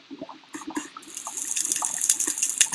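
Water placed in a video game: a gushing, splashing pour that starts with scattered drips and swells into a steady, bright rush of running water, close and loud.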